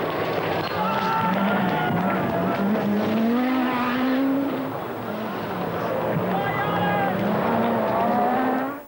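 A Peugeot rally car races along a stage of the 1986 Sanremo Rally, its engine note climbing and dropping through gear changes as it passes close and loud, with an announcer talking over the din.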